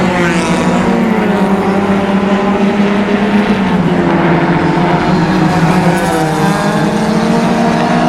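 Closed-wheel race cars on the final lap at Mission Raceway roar past loudly, their engines droning and shifting pitch through a continuous pass while a commentator talks over them.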